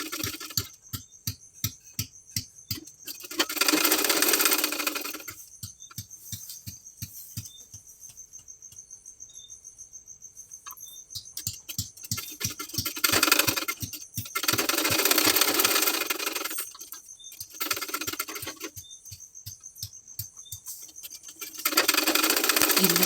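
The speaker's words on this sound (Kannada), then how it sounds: "ಒಂದು ಸ್ಟಿಚ್ನ ಹಾಕೊಳ್ತಾ ಇದ್ದೀನಿ." Sewing machine stitching blouse fabric in a fast, even mechanical patter, running in bursts with pauses between, louder whirring spells alternating with quieter ticking.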